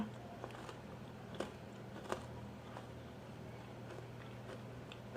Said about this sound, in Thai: มันคือแรดิชเขียวนะคะทุกคน ชิมกัน